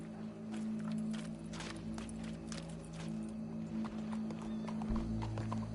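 Horse hooves clip-clopping in Red Dead Redemption 2, a steady run of close, crisp hoof strikes on hard ground over a low game hum, with a brief whinny-like tone near the end.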